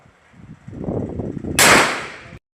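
A single loud, close gunshot cracks out at an outdoor target shooting range in San Isidro, Bacolor, Pampanga. Low handling rustle comes first, then the abrupt sharp report with a short ringing tail that cuts off.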